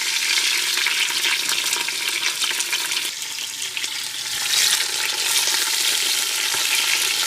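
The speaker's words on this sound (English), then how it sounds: "Let's go ahead and get these oxtails in some oil." Oxtails browning in hot oil for Jamaican oxtail give a loud, dense, continuous sizzle and crackle close by that swells slightly near the end, with no voices.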